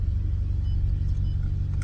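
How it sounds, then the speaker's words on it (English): A Maserati GranTurismo S exhaust idles with a low, steady burbling rumble, close by and continuous, with no talking. "So for now, I'm just going to enjoy the exhaust"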